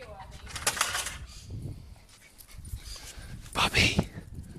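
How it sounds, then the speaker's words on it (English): An old dog pants and gives soft whimpers nearby, with airy breathy bursts and faint whines in an uneven rhythm, and a louder burst near the end. "Look at my dog."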